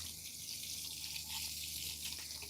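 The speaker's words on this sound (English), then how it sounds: "I'm gonna rinse my hand off." Steady running tap water in a kitchen sink as a hand is rinsed, a continuous close hiss and splash at low level with no talking.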